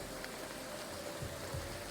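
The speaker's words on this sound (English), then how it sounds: "Does it always rain in this game?" Steady rain falls in the video game Graveyard Keeper, a soft, even patter of drops at low volume with no voices.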